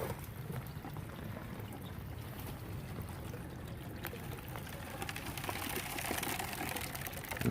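Steady churning wash of water and tumbling dirt from a small homemade mini sluice being fed material, a continuous gritty rushing hiss that grows slightly louder toward the end, with no voices.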